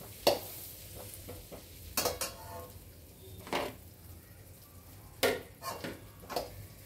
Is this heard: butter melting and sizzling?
yes